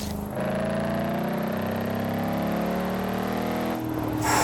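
A Chevrolet Camaro SS V8 in Forza Horizon 3 holds a loud, steady rumbling drone around mid revs for several seconds, dipping briefly before picking back up, with no voices.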